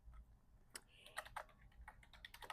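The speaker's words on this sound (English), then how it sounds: "you would type in Framemaker" Quiet typing on a computer keyboard, a short run of light, irregular key clicks heard close and soft.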